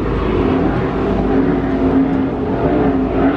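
Racing powerboats at the 2017 Super Boat Grand Prix on the Space Coast roar with a steady, loud, droning engine note that holds a constant pitch throughout, with no voices over it.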